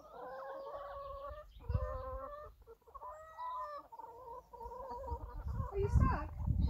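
A chicken clucking and calling close by in a run of tonal, wavering clucks, with light rustling and thumps beneath and a brief louder squawk near the end.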